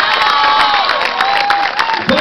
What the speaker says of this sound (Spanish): fuerte los aplausos para Melanie